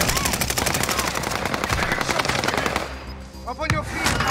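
Rapid automatic gunfire in Warzone on the Pacific Caldera map, loud close bursts in a fast steady rhythm that break off near the end before a few more shots, with a voice speaking over it.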